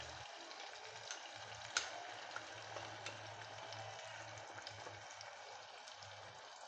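Spice mix sautéing with tomatoes in a pan over a low gas flame, a faint steady sizzle with soft crackles and one small clink, heard alone.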